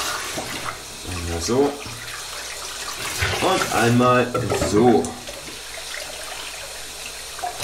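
Water rushes and gurgles through the valves of a tuba being cleaned, a loud splashing flow under someone speaking German, swelling in bursts as the water is pushed through.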